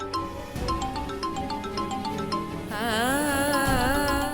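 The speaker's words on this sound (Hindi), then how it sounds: "दादू का फोन आ रहा है।" A melodic phone ringtone plays alone, its warbling electronic tune close and steady, shifting to a wavering trill partway through.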